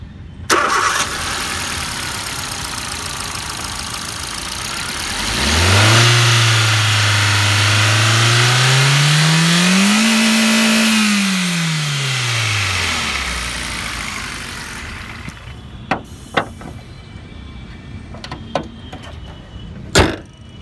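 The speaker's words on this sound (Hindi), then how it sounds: "और ये Kappa2 VTVT पेट्रोल इंजन आप देख रहे हैं।" A 2017 Hyundai i10 Sportz with a Kappa2 1.2 VTVT petrol engine cranks and catches. It revs up steadily, holds high, then falls back to a quieter idle, with a few sharp clicks near the end.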